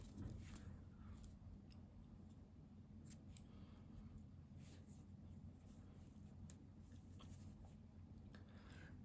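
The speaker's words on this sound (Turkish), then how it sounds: "İpliği kesiyorum" Scissors snip through yarn during a crochet project, a soft close cutting sound set against steady low background noise, with no talk.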